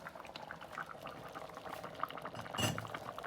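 Lima beans simmer in a covered pot on a stovetop, a soft steady bubbling close by, with a brief clink of the lid being lifted near the end.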